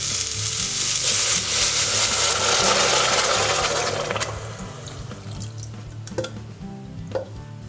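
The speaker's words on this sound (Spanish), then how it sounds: "le añadimos agua." Water pours into a pot of toasted ingredients for a vegan ramen broth, meeting the hot surface with a loud, steady rush and sizzle for about four seconds before fading into quieter bubbling and a few clinks.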